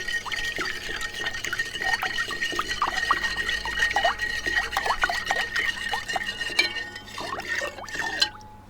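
Brine for fresh mozzarella balls being poured and filled into a glass container, a steady close liquid trickle with small splashes and drips running throughout.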